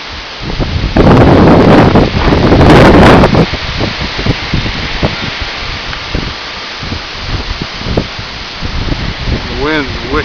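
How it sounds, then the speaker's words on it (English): Strong wind gusts under a shelf cloud on a severe-warned cold front in Oldham County, Kentucky, roar hard into the microphone in a loud buffeting burst, then keep gusting more unevenly, with a voice heard amid the noise. "The wind's wicked."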